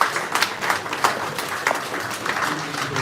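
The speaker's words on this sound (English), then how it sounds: "let's all give ourselves a big round of applause" Audience applause at a regional health directorate half-year performance review meeting, a steady patter of clapping from a modest room of people, moderately loud and continuous throughout.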